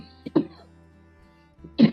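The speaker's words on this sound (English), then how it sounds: "sorry, I have cough" Someone coughs close by in a quiet room. A short double cough comes first, then a pause, then one more cough.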